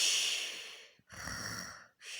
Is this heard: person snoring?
yes